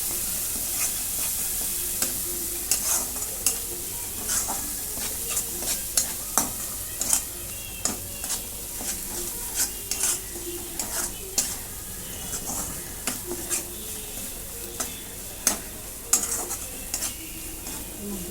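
Bitter gourd (karela) roasting in oil in a pan, with a steady sizzle under a long run of irregular spatula scrapes and stirring clatters, close and moderately loud.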